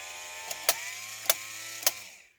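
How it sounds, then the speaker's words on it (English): A 1970s Cadillac power antenna motor whirs steadily as it extends, and three sharp clicks from its clutch sound at regular intervals near the end of travel before the motor stops. No voices. "And those 3 clicks are the self-clutch actuating once it reaches the full 36-inch full extension"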